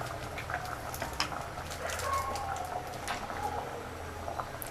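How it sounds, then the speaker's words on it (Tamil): A pot of chickpea and dried fish curry at a steady boil, with a soft continuous bubbling and popping texture heard up close, alone with no voices. "குழம்பு நல்லா கொதிக்க ஆரம்பிச்சிருச்சு. நல்லா கொதிச்சிருச்சு"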